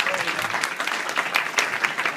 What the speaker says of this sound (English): I think we should give applause for Lorraine right now